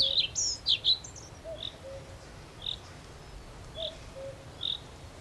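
Birds give short, high chirps and tweets, a few quick calls at first and then single notes spaced evenly apart over a faint hiss of background noise.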